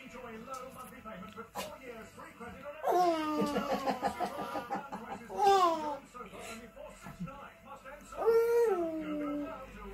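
A dog whimpers and whines in high, wavering bursts, with several rising, plaintive cries close by and voices in the background.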